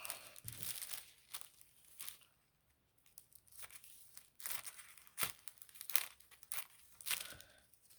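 Scissors cutting through craft paper up close, with a series of short, crisp snips and crinkles separated by brief quiet gaps.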